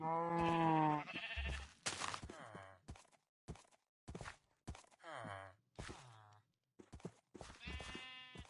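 Minecraft sheep, including black ones, bleat in a series of short wavering cries, some long and some clipped, coming close and fairly loud with brief gaps between them.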